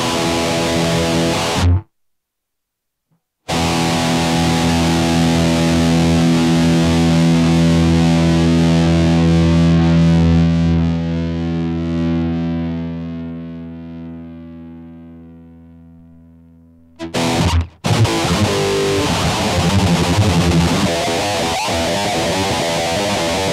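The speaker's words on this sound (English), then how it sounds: "I'll show you now with a noise gate engaged, the significant difference." Distorted electric guitar played through a noise gate pedal, a long sustained chord decaying for many seconds between abrupt cutoffs to silence, then short choppy strums, loud and close with no talking.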